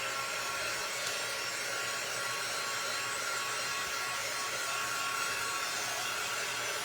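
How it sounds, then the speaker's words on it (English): A hair dryer blows steadily to dry Mod Podge on a small canvas photo, a loud, even whooshing hiss running unbroken throughout with no voices. "Let me dry this real quick before I mess it up."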